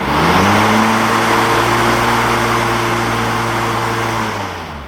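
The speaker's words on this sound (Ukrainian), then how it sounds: "Ось так вмикаються ножі" Cutting blades of a GTM battery-powered rider lawn mower spin up, a loud steady whirring hum with a rising pitch at the start that holds steady and fades slightly at the end, with no talking.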